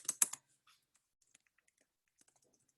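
Typing on a computer keyboard: a quick cluster of crisp clicks up front, then scattered faint single keystrokes trailing off, close and quiet with no speech.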